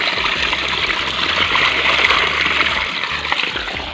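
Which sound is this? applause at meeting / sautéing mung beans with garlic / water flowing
water flowing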